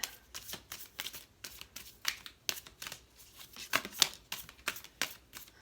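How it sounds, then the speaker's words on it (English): Tarot cards are shuffled by hand in quick, evenly spaced riffling bursts, close and fairly quiet, with no talking. "So, all right, so let's look at the tarot. I'm going to shuffle a bit."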